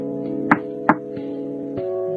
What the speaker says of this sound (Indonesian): Asisten Ji mengetuk pintu ruang kerja Louis.